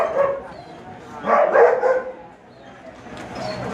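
Sled dog puppies at a dog-mushing kennel tour in Skagway, Alaska, barking and yipping in short bursts, loudest midway, with people talking nearby.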